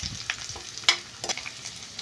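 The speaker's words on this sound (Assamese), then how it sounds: "এই নহৰু আৰু তেজপাতখিনি অলপ সময় ভাজি লম" Chopped garlic and bay leaves fry in hot mustard oil in a kadai, giving a soft, quiet sizzle broken by a few light stirring scrapes and clicks.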